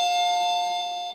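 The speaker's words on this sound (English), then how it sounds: "There's the doorbell." A doorbell rings indoors as one sustained electronic tone, clear and fairly loud, holding for about a second before cutting off, with no voices over it.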